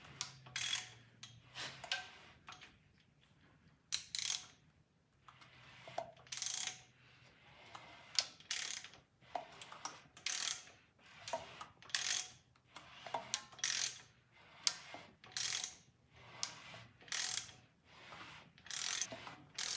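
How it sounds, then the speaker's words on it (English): Hemi engine being turned slowly by hand with a ratchet while its rockers and pushrods move, giving faint repeated clicking and ratcheting bursts in a regular rhythm, close and quiet, with no talking. "spin the motor around a few revolutions just to make sure that the rockers are moving the way they're supposed to"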